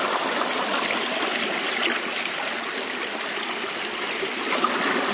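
A small shallow creek over bedrock in West Virginia flows and trickles in a steady, continuous babble, close and even, with no voices.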